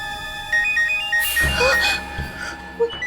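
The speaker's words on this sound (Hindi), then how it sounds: "उसी का फोन है।" A phone ringtone plays a repeating electronic melody, then a voice cuts in and talking continues over the fading tune.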